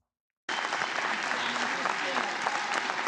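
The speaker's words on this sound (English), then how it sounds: "And they're clapping like something important happened." Legislators applauding in a legislative chamber, a dense, steady burst of many hands clapping that starts abruptly after a short silence and carries on evenly, with some voices mixed in.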